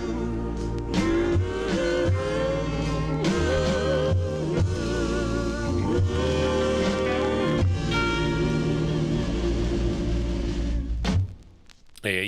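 A vintage soul record plays at full volume, with steady rhythm, bass and sustained vocal and instrumental lines, dipping briefly near the end.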